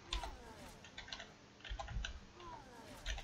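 A computer keyboard's W key is tapped repeatedly to trigger a combo in the archer class of the MMORPG Rise Online, giving quick, close, light clicks in short irregular bursts with soft speech in the background.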